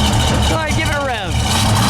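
A 1971 Ford Boss 351 Mustang with a four-speed revs up and falls back over its idle, a loud, close engine swell lasting under two seconds with a person talking over it.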